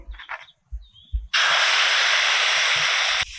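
Ghee-brushed batter for patisapta hits a hot kadai and bursts into a loud, bright sizzle that holds steadily for about two seconds before cutting off. A few soft utensil clinks and taps come before and after it.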